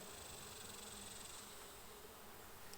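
Honeybees buzz around a hive at a Kansas farmhouse near sunflowers, a faint, steady, continuous hum with no voices over it.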